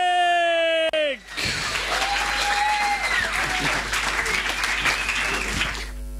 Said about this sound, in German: Großartiger Applaus bitte